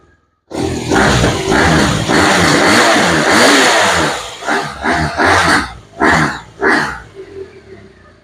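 A BMW R1200 boxer twin motorcycle engine starts up close by with a deep sustained roar, then gives several short, sharp throttle blips.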